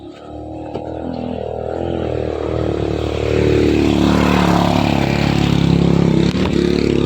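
A motorcycle engine rumbles behind hikers on a mountain trail near Ciwidey, a close, loud droning that builds and strains as it climbs, with clattering over rough ground.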